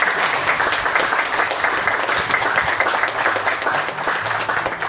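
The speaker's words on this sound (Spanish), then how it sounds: "Bien, Amparo, un fuerte aplauso" Sustained applause fills a graduation ceremony for fourth-year secondary students at Colegio Marambio, a steady, dense wash of many hands clapping at an even level for the full stretch with no voices on top.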